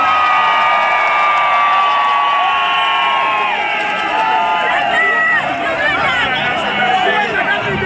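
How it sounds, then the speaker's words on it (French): Large crowd at an outdoor political rally in Douala cheering and whooping loudly, with shouting voices and chatter layered over a constant dense roar. "veuillez applaudir pour elle"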